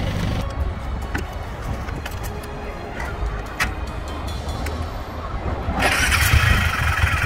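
A motorcycle engine cranks and catches near the end after a steady noisy rumble, close and loud, with no speech over it.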